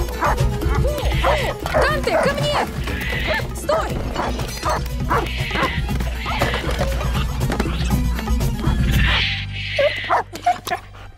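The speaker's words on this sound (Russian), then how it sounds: "Волшебный чудо-пес, проводник духов в царстве теней." The animated spirit guide dog from Coco barks in a run of loud, close, repeated yaps and woofs with whimpering tones, joined near the end by a deeper animal cry, over a music and effects bed.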